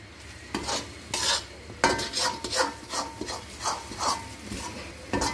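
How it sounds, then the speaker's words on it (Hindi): Semolina halwa roasting in ghee is stirred in a wok, with a spoon scraping the pan in steady repeated strokes over a soft sizzle, close and alone. "मैं थोड़ी देर तक और भूनूंगी, 5 मिनट तक, ये कढ़ाई में से हलवा छोड़ देगा"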